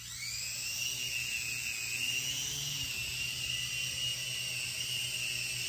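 A Sky Rover Knight Force toy drone flies indoors with a steady, loud, high-pitched whine from its small motors. The whine holds an even pitch throughout, and no one talks.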